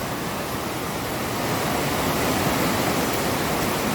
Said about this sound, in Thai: นี่คือสภาพน้ำตกของน้ำตกผากล้วยไม้นะครับ